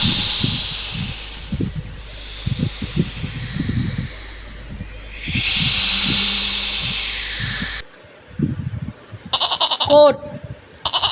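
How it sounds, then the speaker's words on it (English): A goat bleats in a few loud, wavering calls that repeat over a steady background, with another sharp animal cry close by toward the end. "goat,"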